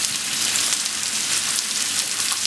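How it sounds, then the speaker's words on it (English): Onions, green turnip, carrots and celery fry in preheated oil in a Firex CBTE030 tilting kettle, making a dense, steady crackle and sizzle that sounds close and keeps going throughout. "I'm going to just seal off some root vegetables. I've just put some oil in and preheated that."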